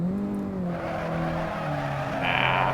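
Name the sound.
car engine in a racing video game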